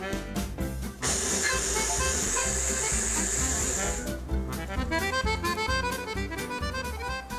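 Half a cup of water hits a hot pan holding onion, sesame oil and hemp seed oil, giving a loud sustained sizzle and hiss of steam for a few seconds before it settles into a busier crackle.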